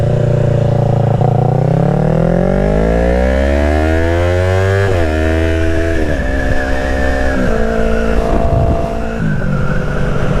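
A sport bike's engine revs up loud and close, pitch climbing steadily through the gears with sharp shift breaks, continuous roaring throughout.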